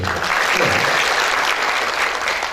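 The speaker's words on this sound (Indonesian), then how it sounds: "Tepuk tangan buat Ibrahim." An audience at a university graduation ceremony for IAI Ibrahimy in Banyuwangi breaks into applause, a dense, even roar of many hands clapping at once in a large hall.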